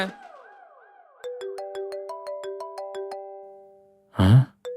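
Mobile phone ringtone for a call from an unknown number, a repeating melodic tone pattern with a plucked, bell-like rhythm that plays alone and then stops, followed by a brief loud rustle.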